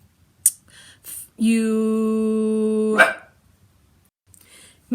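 A dog gives a few sharp yips, then a sustained, tonal howl-like bark, close and loud, with no one speaking.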